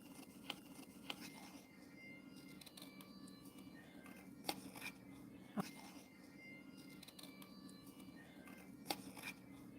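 Scissors snipping out a paper accent piece for a pop-up card, a series of quiet sharp cuts at irregular intervals over a faint steady background hum, close and alone without talk.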